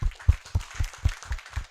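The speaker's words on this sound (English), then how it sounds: "great round of applause for people" Applause for panelists at a panel discussion, about seven evenly spaced close hand claps, thumpy and moderately loud, with no other clappers standing out.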